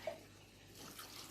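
Faint water splashes and trickles as soaked mung beans are rinsed in a sprouting jar with a screened lid, brief and soft.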